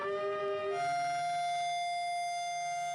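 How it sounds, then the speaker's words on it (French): A strident commemoration-day siren sounding across Jerusalem, one sustained steady wail that holds evenly for the whole stretch with no voices. "À Jérusalem, c'est au son d'une sirène stridente."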